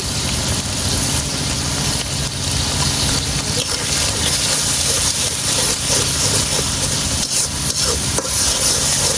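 Spice masala with salt and dry chili powder frying in a village kitchen pan, a continuous loud sizzle mixed with scraping stirring strokes and a low rumble underneath, with no voices.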